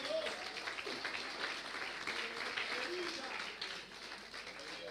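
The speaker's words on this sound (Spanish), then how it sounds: "¿Alguien quiere darle un aplauso al Señor en esta hora," A church congregation applauds during a sermon, a moderately loud, steady wash of clapping that runs for several seconds and thins slightly toward the end, with voices murmuring underneath.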